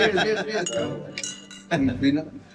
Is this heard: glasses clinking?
yes